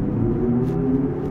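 Hyundai Ioniq 6 long-range rear-wheel-drive electric car on 18-inch wheels accelerating, heard from inside as a steady low drone with a sustained tonal whine that swells slightly, continuous and loud with no talking.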